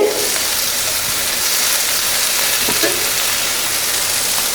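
Tomatoes sautéing in a pan, a loud steady sizzling hiss up close with occasional brief scrapes of stirring.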